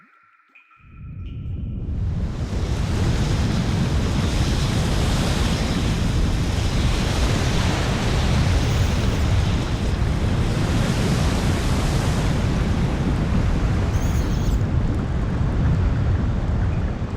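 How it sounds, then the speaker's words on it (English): In The Black Mirror video game, water surges into a drain channel after a hatch opens, rising from near silence into a loud, continuous rushing roar that holds steady to the end. "The water has risen to the brim of the drain channel."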